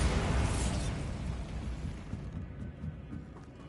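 Bombarda explosion spell cast in Hogwarts Legacy, a loud booming blast that rumbles and slowly fades out over a few seconds, with no talk over it.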